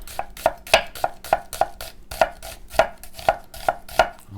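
A knife chops onions into strips on a cutting board, with about a dozen crisp, evenly spaced knocks against the board, close and loud, with no voices over them.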